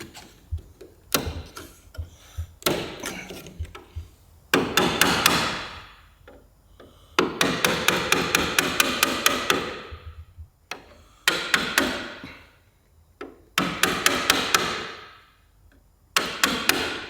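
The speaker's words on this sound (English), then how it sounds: "Shouldn't really have had to have hammered that in place" Sharp hammer blows drive a fitting into place on an AEC Routemaster London bus during restoration, coming in irregular bursts of rapid metallic taps separated by short pauses, close and fairly loud.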